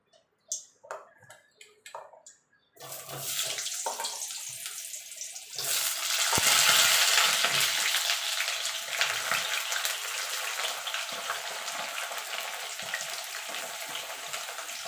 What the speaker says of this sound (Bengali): কড়াইটা গরম হয়ে গেছে তেল দিয়ে দিয়েছি এবার পটলগুলোকে আমি ভেজে নেবো